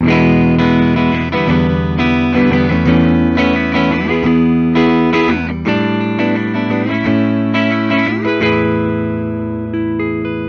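A 2023 Gibson '80s Explorer electric guitar on the bridge pickup, clean channel, plays bright, biting chords and notes with a clean but edgy tone, continuous and loud, with some reverb.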